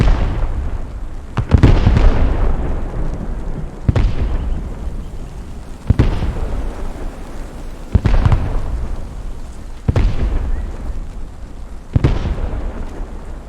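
Mortar explosions in a video game land in a steady series, roughly every two seconds, each one a loud booming burst that rumbles away before the next shell hits, with no talking.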